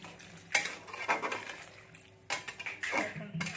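Metal pot clatter and stirring scrapes as water goes in with potatoes and a lid is set on a pot of spiced vegetable curry in a village kitchen, a few sharp clanks between softer rustling.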